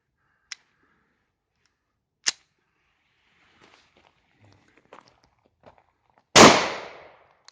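A German P.08 Luger pistol fired from the hip gives one sharp, loud report that rings out briefly, preceded by a few faint clicks and light handling noises.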